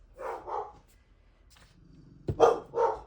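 Pet dogs bark in a home, two bursts of a couple of barks each separated by a quiet pause, moderately loud and fairly close, with no talking over them.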